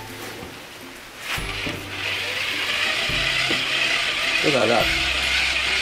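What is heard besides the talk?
cranking a hand crank generator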